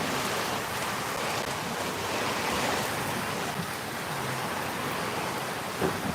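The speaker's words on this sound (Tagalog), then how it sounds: "Lamas ka kusog sa ulan." Heavy rain pours in Misamis Occidental, Philippines, a loud, dense, unbroken roar of water mixed with gusty wind noise, with no voices heard.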